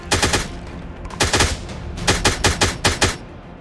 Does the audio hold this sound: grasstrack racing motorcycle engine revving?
no